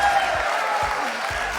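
Crowd at the RLCS 2021-2022 Rocket League World Championship esports event claps and cheers in a steady, dense wash of applause, with faint voices mixed in.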